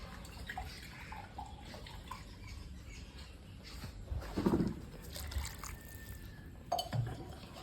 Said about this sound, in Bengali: কষা হয়ে গেছে এবার জল দিয়ে দেবো